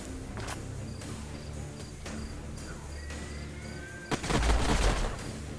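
A gun turret in the sci-fi strategy game Age of Wonders Planetfall fires a loud burst of gunfire, heavy and crackling, over a steady ambient hum and faint insect-like chirps.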